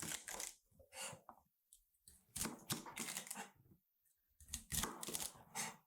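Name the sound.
knife chopping asparagus on a cutting board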